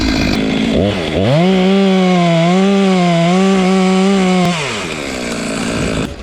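Chainsaw felling a boxelder tree beside a shed, the engine revving up into a loud, steady cutting drone for a few seconds before dropping back to idle, close by, with no talk.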